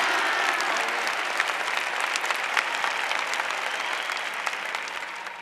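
A congregation at a Catholic service applauds steadily, a dense, even wash of many hands clapping throughout.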